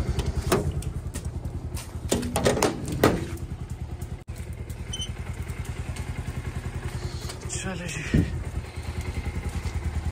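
A motorcycle rides up and is parked on a snowy roadside, its engine running steadily up close with a few clattering thumps and a shift near the end, while someone talks over it.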